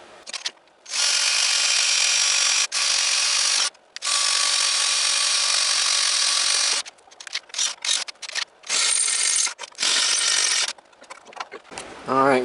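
A handheld power drill bores holes through a metal bracket for a lowered-pulley MTD race mower, running in several close, loud bursts separated by short pauses, with lighter clattering in between.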